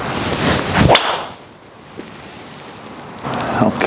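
A Callaway Paradym Ai Smoke driver with a 9-degree head strikes a golf ball slightly high on the toe, giving one sharp, loud crack near the start that fades into quiet, with faint outdoor rustle afterward.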